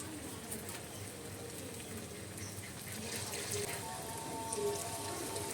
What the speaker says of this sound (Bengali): এবার আমি এইভাবে গোল গোল করে ম্যাগির বলগুলো ভেজে নেব